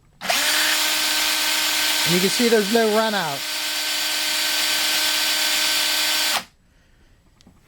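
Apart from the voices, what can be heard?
electric drill spinning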